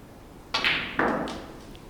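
In an English billiards final, ivory-toned balls click sharply together twice in quick succession during a delicate run-through cannon shot, two crisp near contacts with a short ring fading into a quiet hall.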